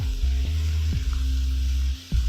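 Lettuce-wrap stir fry sizzling in a hot pan after a splash of sauce, a steady close frying hiss with a low hum beneath and a few faint clicks of stirring.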